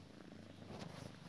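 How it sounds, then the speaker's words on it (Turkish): A cat purrs softly and steadily up close, a low rhythmic rumble with a faint, even pulse throughout, quiet and alone. "Ya kedi."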